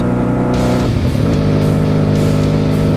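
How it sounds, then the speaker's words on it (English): A Honda Magna motorcycle engine revving during break-in: a loud, close idle that rises into a short rev, dips, then settles back to a steady running drone, with no talking. "Just vary your RPMs, like make it go low, make it go a little higher."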